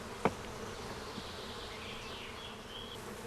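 Honey bees shaken onto a plastic sheet from a hive, a steady close swarm buzz with individual bees whining past, one sharp tap near the start, no talking.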